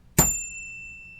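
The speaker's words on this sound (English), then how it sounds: "I'm going to ring the bell." A single bell strike, bright and close, with a sharp attack and a clear metallic ring that decays slowly.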